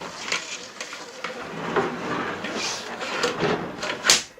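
Old doors on a cage-like enclosure being shut and latched, several knocks and clunks with a sharper bang near the end, close by with no talk.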